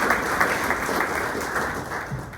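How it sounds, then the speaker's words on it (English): Audience applauding at a morning candidates forum in Corona, a dense steady wash of clapping heard alone at moderate loudness. "Round of applause for Corona Regional"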